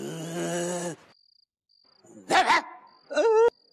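A dog barks twice in a comedy TV scene, short sharp yelps after a pause, with a thin steady chirping tone in the background and a brief voice at the start.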